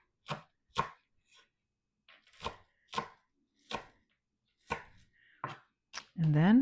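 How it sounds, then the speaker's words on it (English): A knife chops cabbage into small pieces on a board for Jamaican-style steamed cabbage, with about nine crisp, separate strikes in loose rhythm and quiet gaps between, close by, before a voice begins at the very end. "And then I chop them together. Just like that. In small little pieces."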